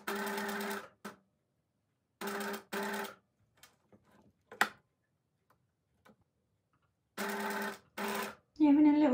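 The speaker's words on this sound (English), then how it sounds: "I'm just going to sew this down." Sewing machine straight-stitching fabric in several short bursts of rapid mechanical whirring, separated by quiet pauses, with soft handling clicks between and a voice speaking briefly at the end.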